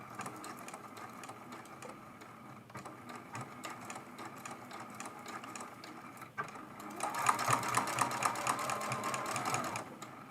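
A sewing machine with a walking foot stitches a quilt-as-you-go table runner made from fat quarters, a steady mechanical whir running throughout and growing louder and busier toward the end, with no talking.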